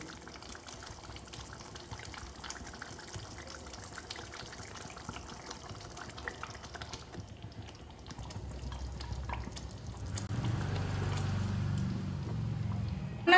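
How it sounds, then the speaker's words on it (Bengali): Fried katla fish dropped into a boiling yogurt gravy in a pan; a steady bubbling simmer is followed by a louder, fuller watery sizzle near the end, close and moderately quiet, with no speech. "গ্রেভিটা ফুটছে এবার আমি এর মধ্যে ভাজা মাছটা দিয়ে দেবো"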